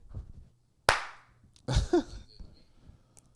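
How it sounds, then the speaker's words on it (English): One sharp, close hand clap rings out in a quiet room, followed by a short burst of other low sounds and faint background noise. "I'll do a clap and watch on my end."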